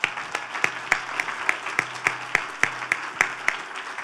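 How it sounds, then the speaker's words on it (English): An audience applauds at the 2018 Media Access Awards ceremony: close, evenly spaced sharp claps in a steady rhythm over a soft wash of wider crowd clapping, lasting a few seconds with no talking. "Now you can applaud."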